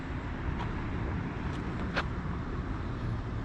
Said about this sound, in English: Cars coming by, checking it out.